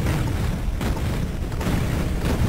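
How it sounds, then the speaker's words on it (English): Repeated heavy booms from rockets in the PC shooter Duke Nukem 3D during a boss fight, rumbling low and continuous across the span with several bursts layered over a dense, loud game soundscape. "Get some rockets on him."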